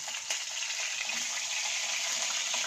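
Shrimp paste, shallots and garlic fry in hot oil for sambal, giving a steady hissing sizzle with a few small pops, continuous and fairly close, with no talking.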